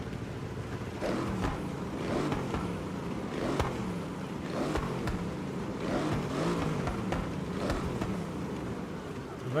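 Mercedes-AMG 63S engine revving in Forza Horizon 6, repeated throttle blips rising and falling in a rough rhythm, moderately loud, with a person talking over the engine at times.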